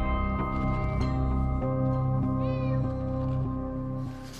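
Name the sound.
cat meowing, stuck in a tree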